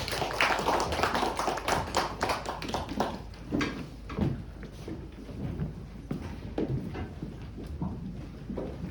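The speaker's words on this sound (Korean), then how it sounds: "하나님께 영광의 박수로 올려드리겠습니다" A congregation applauds at a student Sunday worship service in a church, with dense, steady clapping that continues for about nine seconds with no break.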